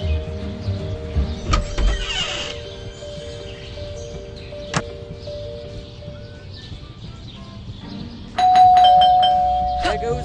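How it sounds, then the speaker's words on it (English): A doorbell rings in the Scary Teacher 3D video game, a bright electronic chime near the end that rises over game music and ambient effects, with a voice speaking earlier. "There goes that stupid bell again."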